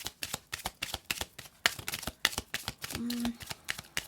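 Tarot cards being shuffled by hand, a quick series of crisp riffling flutters and taps in an irregular rhythm, close and fairly quiet, with a brief low hum near the end.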